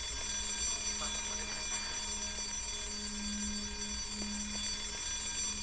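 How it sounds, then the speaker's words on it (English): An alarm rings on through a rainy, noisy Silent Hill: Downpour scene, a steady tonal wail held over dense background hiss and ambient game sound, with no speech over it. "after I set the alarm off"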